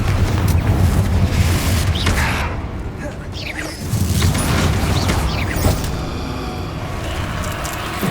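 In the Hogwarts Legacy video game, Confringo fire spells are cast repeatedly, giving deep booming blasts and whooshes among rumbling game effects while someone shouts spell incantations.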